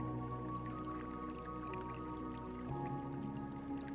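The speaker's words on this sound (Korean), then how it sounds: "지금부터 물소리와 음악 소리를 들으며" Faint trickling and dripping water plays continuously under soft, sustained music tones, calm and steady with no talking.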